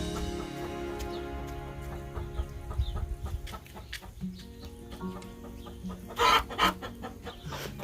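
A hen in a cage clucks repeatedly in short curious calls, with other fowl sounds and a brief louder squawk amid faint farmyard background noise.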